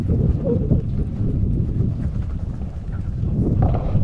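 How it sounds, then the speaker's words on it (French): Steady wind buffets the microphone outdoors at a padel match, a continuous low rumble with gusts that swell near the end, with no talk. "le vent qui est en train de se lever là"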